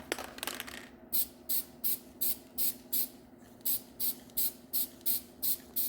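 An aerosol can sprays texture coating onto a cracked Jeep XJ dashboard in a dozen short, evenly spaced hissing bursts, loud and close, with a brief rattle of handling at the start.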